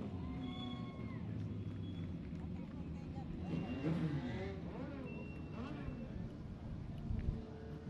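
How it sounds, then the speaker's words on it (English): Legends race cars roll up slowly at Salem Speedway after the first race of the season, a steady low engine rumble running throughout with a voice talking over it and wind buffeting the microphone. "Cars rolling up here now."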